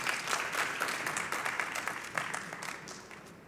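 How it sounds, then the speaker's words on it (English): A conference audience at an electronics trade-fair award ceremony gives a sustained round of applause, dense steady clapping from many hands that fades slightly toward the end, with no talking over it. "A quick round of applause there for Benjamin Klingenberg."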